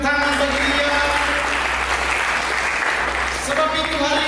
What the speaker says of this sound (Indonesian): Mari kita berikan tepuk tangan bagi Dia.